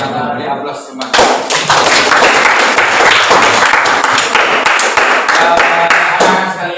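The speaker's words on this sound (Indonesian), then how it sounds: "Beri aplaus semua" Loud, sustained applause from an audience at a school demonstration of handling a body for burial, continuous clapping after a short quiet opening, with scattered voices mixed in.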